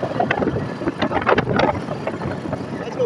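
A Royal Enfield 350 motorcycle riding along a highway, its engine thumping under heavy buffeting wind rush close to the microphone, continuous and loud.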